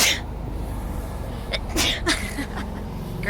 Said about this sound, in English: just me sneezing